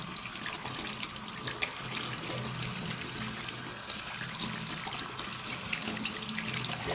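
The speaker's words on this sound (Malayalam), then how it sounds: "നന്നായിട്ട് വെള്ളം ഉപയോഗിച്ച് കഴുകുക" Tap water runs into a sink while hands are washed, a soft steady stream with faint splashes and trickles, quiet and continuous throughout.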